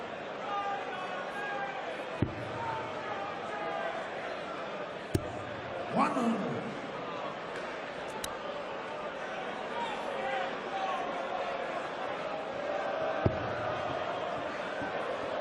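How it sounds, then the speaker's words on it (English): A crowd murmurs and rumbles throughout a 2017 Champions League of Darts match in Cardiff, a broad steady arena hubbub with a few sharp knocks and brief swells, heard beneath ongoing commentary. "Good crowd here in Cardiff."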